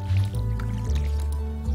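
Crops being watered with a watering can in the video game Stardew Valley, a wet, squishy splashing effect with low gurgling tones, heard close and fairly loud throughout.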